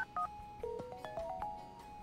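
Telephone keypad dialing tones from someone calling to order a pizza, a quick sequence of several distinct beeps of varying pitch, clear and alone over a faint background hiss.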